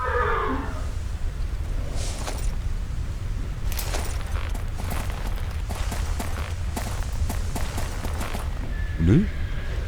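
A horse whinnies in the video game Stajnia Marzeń amid a steady background hum, followed by scattered light hoof taps and a short rising tone near the end.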